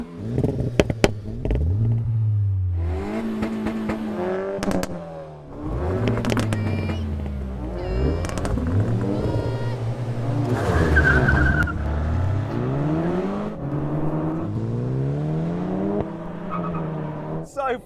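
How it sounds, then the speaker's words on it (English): Four manual front-wheel-drive hatchbacks, a Seat Leon Cupra R, Honda Civic Type R, Peugeot 308 GTI and Hyundai i30N, launch in a drag race. Engines rev hard and climb through repeated gear changes, with tire squeal, loud and close. "Now we're going to have a drag race."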